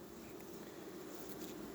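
Honey bees at a hive, some carrying varroa mites, give a steady, low, faint buzz with no break.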